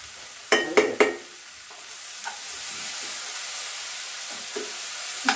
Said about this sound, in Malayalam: ഇത്രയും ചേർത്തിട്ട് നന്നായിട്ട് ഒന്ന് വഴട്ടെ കേട്ടോ